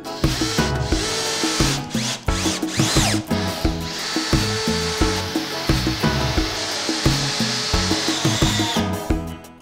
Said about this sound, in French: maintenant que mon cadre est fait, je peux visser partout